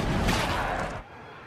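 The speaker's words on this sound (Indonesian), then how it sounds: "Andy menembak para zombie sesuai requestan" Gunshots from a zombie-horror film, Dawn of the Dead, fired at zombies: a dense, loud burst of gunfire for about a second, then a sudden drop to quieter background.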